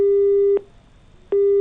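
A telephone rings unanswered, its ringback tone sounding as a long electronic beep, a pause of under a second, then the beep starting again.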